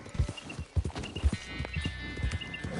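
Horse hooves clip-clop in Red Dead Redemption 2, a series of close, distinct thuds in an uneven walking rhythm over faint ambient game sound.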